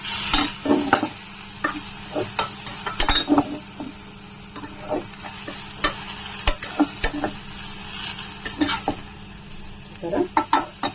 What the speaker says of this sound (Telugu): మంచిగా ఫ్రై అయిపోయిందంట.